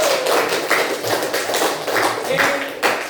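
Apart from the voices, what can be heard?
applause from class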